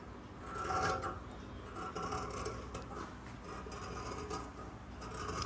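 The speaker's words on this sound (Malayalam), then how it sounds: "ഇനി നമുക്കിതൊന്ന് കട്ട് ചെയ്ത് കൊടുക്കാം." Scissors cut kurti fabric for sewing, a steady, close rasping and rubbing that runs without pause, with no voices.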